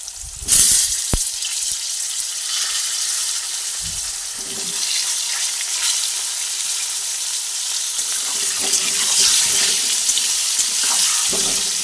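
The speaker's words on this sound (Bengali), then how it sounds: "পটলগুলোকে আমি ভেজে নিচ্ছি" Pointed gourd (potol) coated in turmeric and salt fries in hot oil, giving a steady, loud, close sizzle throughout, with a few brief clinks and stirring knocks and no talking.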